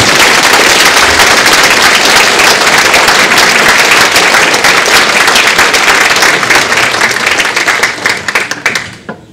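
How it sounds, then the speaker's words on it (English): A standing audience gives loud, sustained applause at a Hmong cultural ceremony for a judge's retirement, a thick roar of many hands that trails off into scattered claps at the end. "let's give him a round of applause once again for his return"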